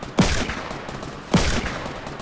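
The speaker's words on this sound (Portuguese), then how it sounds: "Dei 3 tiros, o Drizzy matou." Two sharp gunshots about a second apart ring out in a multiplayer squad shooter game, each a loud crack with a short decaying tail over a low background.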